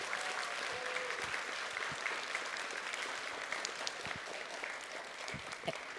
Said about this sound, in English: Can I have a big round of applause for Rebecca and Emily?